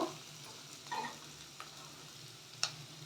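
Chopped carrot, beans and capsicum stir-fried over high flame in a pan for shavige upma, a faint steady sizzle with a few soft stirring scrapes and one sharp clink of a utensil near the end.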